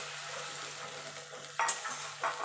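Poppy seed, cashew and yogurt paste sizzles quietly in a pan, with two sharper bursts of spoon scraping and stirring near the end over a low steady hum, and no speech.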